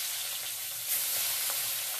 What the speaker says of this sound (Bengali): তেলের মধ্যে আমি পাবদা মাছগুলো এক একটা করে ছেড়ে দিচ্ছি।